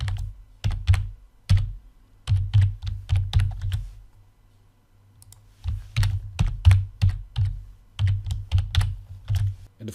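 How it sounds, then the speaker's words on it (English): Someone types a password on a computer keyboard, producing crisp, close key clicks in quick bursts separated by short pauses. "So I type a username"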